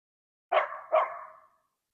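A dog in a dog yard gives two quick, close barks in succession, then falls silent.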